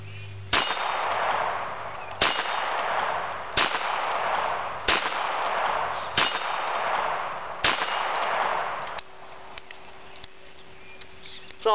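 Six sharp reports from a Bearcat .22 pistol, spaced about one to two seconds apart, each a loud close crack with a ringing decay, followed by quieter faint clicks and handling noise.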